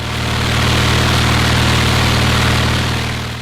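An aircraft piston engine with a Hartzell propeller turns steadily at 2400 RPM cruise. It gives a loud, constant low-frequency drone with strong harmonic hum and broadband prop roar, swelling slightly at onset and fading at the end, with no voices.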